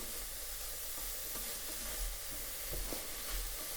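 Vegetables for a lasagna sizzling in a pan as they are stirred in; a steady, close hiss of frying with soft scraping stirs throughout the short stretch.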